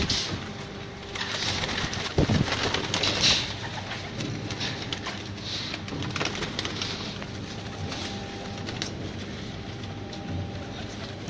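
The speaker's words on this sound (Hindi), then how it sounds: "ये दोस्तों देखिए ज़रा कबूतर, ये खान साहब के ब्रीडर कबूतर है।" Breeder pigeons coo softly and repeatedly at close range in a loft, low burbling calls over a steady background hum with occasional rustles, no talking.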